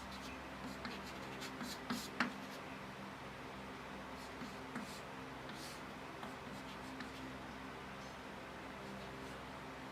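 A chemical formula being written by hand during a chemistry lecture on salt analysis, faint scratchy pen or chalk strokes with a few small taps over a steady fan-like hum.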